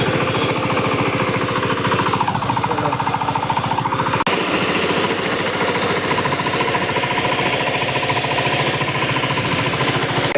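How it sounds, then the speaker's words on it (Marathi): A tractor works in a farm field, its engine hammering out a loud, fast, steady knocking chug close by, with a brief break partway through before the rhythm carries on. "गाईज सुरू केलं ट्रॅक्टरचं काम."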